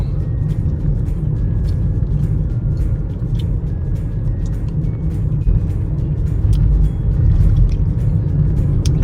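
A car drives along a quiet country road, its steady low engine and tyre rumble continuous and fairly loud throughout, with no talking.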